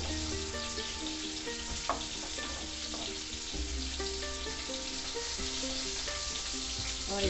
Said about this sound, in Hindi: यहाँ पे फिश फ्राई का आवाज़ इतना तेज़ आ रहा है।